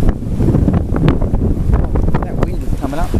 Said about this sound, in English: That wind is coming up.